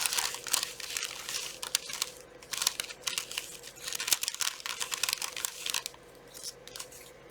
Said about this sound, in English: You may hear crinkling